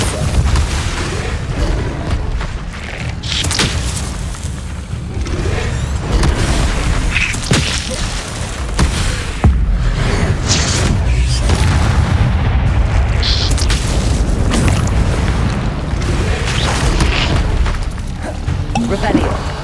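Depulsor spells blasting in the Hogwarts Legacy video game on PS5, a long stretch of repeated booming impacts and bursts, loud and dense, with game voices talking throughout.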